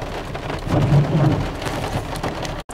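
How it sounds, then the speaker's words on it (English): Steady rain falling outdoors, a continuous dense hiss with a low rumble underneath, close and fairly loud throughout, cutting out for a split second near the end, no talk. "It's still raining, Bob"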